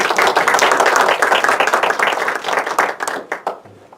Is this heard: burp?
no